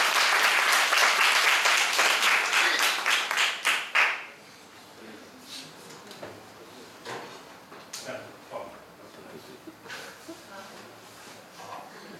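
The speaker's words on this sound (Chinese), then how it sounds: "让我们热烈的掌声欢迎峰哥" An audience at a talk and Q&A session applauds to welcome a guest, with a loud, dense burst of clapping for about four seconds that quickly dies down, followed by scattered noises and speech.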